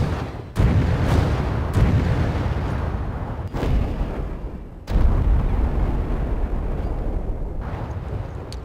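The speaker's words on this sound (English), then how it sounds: "here's the rocket launcher" Rocket launcher blasts in the Resident Evil 5 video game: several loud, booming explosions in succession, each with a sharp onset followed by a long rumbling decay.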